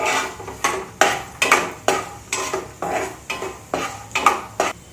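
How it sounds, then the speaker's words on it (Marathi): Cashews and poha chivda being roasted in a pan, with a steady run of about a dozen sharp metallic scrapes and clinks from a spoon against the pan, evenly spaced and close, with no talking. "आता यात काजू गरम घालू आणि ते पण भाजून घेऊ."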